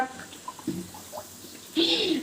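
Water running from a tap into a container at home during bathing, a short splashing rush near the end after faint background sounds, with voices nearby.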